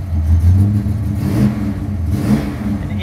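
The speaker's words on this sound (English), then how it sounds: "I'm going to start it" 1964 Dodge Max Wedge clone with a 426 engine and exhaust cutouts, heard close and loud as it fires up and revs in surging low rumbling bursts.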